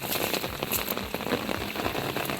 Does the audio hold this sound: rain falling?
yes